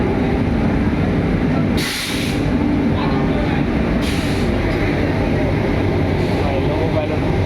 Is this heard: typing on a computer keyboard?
no